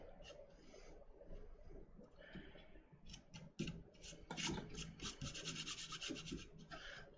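Tarantula enclosure substrate pressed and flattened by hand for a Xenesthis immanis rehouse, giving close irregular rubbing and rasping scrapes that grow busier and louder partway through.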